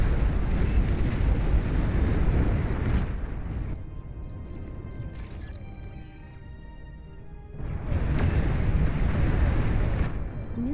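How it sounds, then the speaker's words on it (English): A nuclear missile launch in the real-time strategy game Beyond All Reason thunders as a long, loud roaring rush that fades to a quieter rumble midway, then surges back at full strength. "Nuclear missile launch detected."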